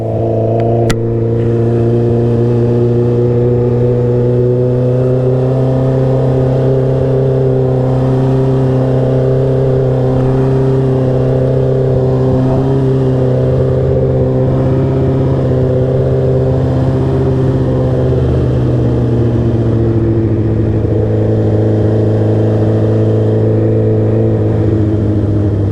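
A derestricted Honda CB650R motorcycle engine holds a loud, steady drone that climbs in pitch as it accelerates, easing off briefly before rising again, close and continuous with no talk.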